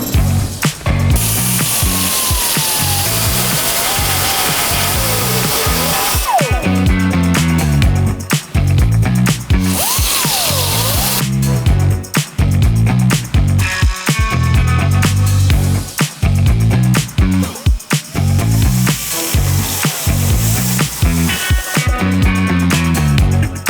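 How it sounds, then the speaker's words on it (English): A crossmember is being cut out just inside its welds on a 1965 Corvette chassis, a loud, continuous harsh metal-cutting roar with brief dips and pauses, close up, with no speech. "I'm going to cut right on the inside of the welds just to get the cross member out"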